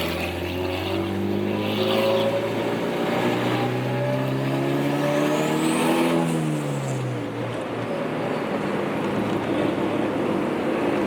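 A 300 hp Honda Civic spinning its wheels in second gear during a street pull, the engine droning loud and steady as its pitch rises and then drops, with constant road and wind roar.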